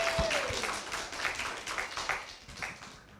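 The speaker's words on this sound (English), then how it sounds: "let's thank our panelists for being here tonight. Let's give them a round of applause." Audience applause for panelists at a high school race relations forum, a short burst of fairly faint, scattered clapping with a few louder claps near the start.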